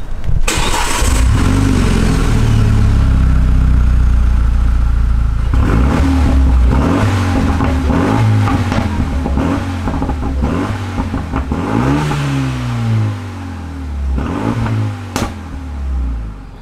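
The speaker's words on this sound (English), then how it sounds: "I'll just show you what this car sounds like as it is with the standard catalytic converter right now." A Renault Megane RS250 on its standard catalytic converter idles close and loud, then is blipped through a series of sharp revs that rise and fall, with no talking.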